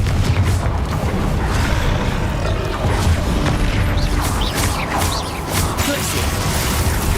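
Fiery Confringo spell blasts in Hogwarts Legacy, a dense barrage of booming impacts, crackles and clattering debris layered over continuous combat noise, loud and busy with sharp bursts throughout.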